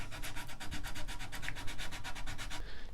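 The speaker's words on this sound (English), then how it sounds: "And I finished it off by a little sanding with 220." Close, rhythmic strokes of 220-grit sandpaper rubbing back and forth across a wooden Windsor chair, about a dozen even passes in quick succession before stopping.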